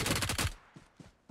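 Rapid close burst of automatic gunfire in the PUBG Mobile battle royale game, then three fainter, spaced single shots.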